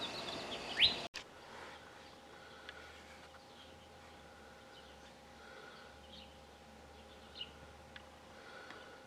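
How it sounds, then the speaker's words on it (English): Birds chirp and call around backyard feeders on a quiet morning, with quail and doves about: faint scattered tweets over a low steady hum, after a brief louder chirp and a sharp click near the start. "Got the quail out and doves and"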